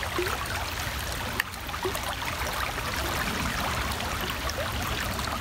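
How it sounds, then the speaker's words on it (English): Water trickles steadily from a hand-pumped Katadyn Pocket water filter, a faint, continuous stream with a small clack partway through. "that's when you know the water's coming out"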